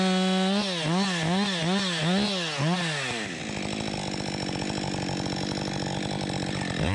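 A 60 cc chainsaw limbing a big tree revs up and down in repeated bursts, then settles into a steady loud cutting whine as it bites into wood, close and continuous.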